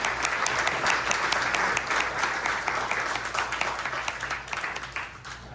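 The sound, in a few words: applause for the library staff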